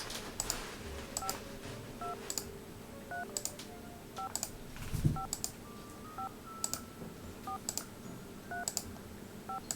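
Telephone keypad tones dial a phone number in a Nancy Drew video game, a series of short crisp beeps in irregular bursts, clear and alone without talk.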